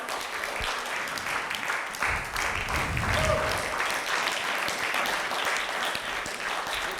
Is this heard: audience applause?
yes